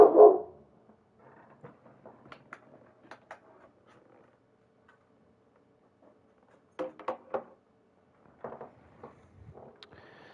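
A dog barks in short, separate bursts, one loud bark at the start and then scattered quieter barks and whimpers spread across the stretch, heard alone without talk.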